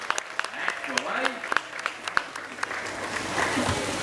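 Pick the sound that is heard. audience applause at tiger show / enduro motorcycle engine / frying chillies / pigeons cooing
audience applause at tiger show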